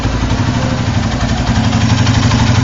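Honda Tiger motorcycle engine running steadily, a loud, close, continuous low throb with a rhythmic idle pulse that stays even throughout, with no voices.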